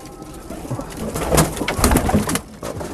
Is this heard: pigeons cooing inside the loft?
yes